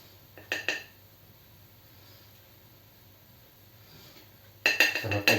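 A metal spoon scrapes and clinks against the pot of a Ninja Speedi cooker full of overcooked rice, two short bursts at the start and a longer stretch of scraping at the end, with quiet between.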